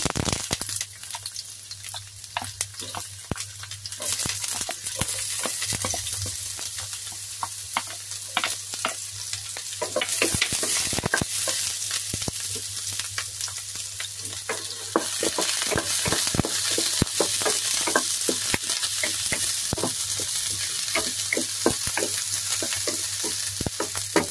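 Chopped onion frying in oil in a pan for a vegetable dish served with lechon pork gives a steady, close sizzle broken by stirring scrapes and clicks, with no one talking.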